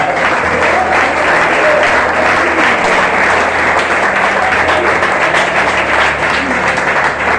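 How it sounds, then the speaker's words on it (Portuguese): Congregation applauding during a Sunday church worship service, a loud, dense, continuous wash of many hands clapping for over seven seconds, steady and close throughout, with no speech. "Vamos aplaudir o Senhor por Jesus."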